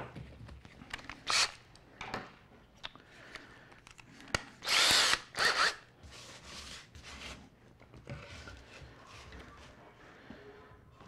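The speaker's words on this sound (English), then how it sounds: "We take our drill." A power drill runs into taxidermy material for a turkey tail mount, several short whirring bursts of a few seconds each with quiet handling noise between them, close and clear.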